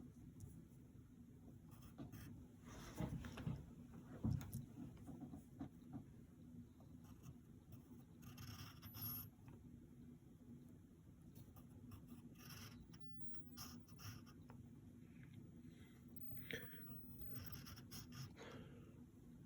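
Pencil scratches across paper in short, faint strokes at irregular intervals, quiet and close over a low background hum, with no voices.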